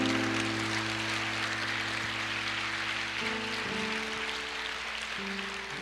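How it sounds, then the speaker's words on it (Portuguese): A church congregation applauds, a steady wash of clapping that blends with sustained organ or keyboard chords underneath throughout. "Aplauda ao Senhor, querido."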